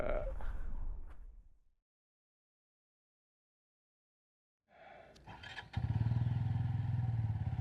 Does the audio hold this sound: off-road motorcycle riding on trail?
yes